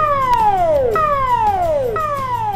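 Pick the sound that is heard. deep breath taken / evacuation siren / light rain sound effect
evacuation siren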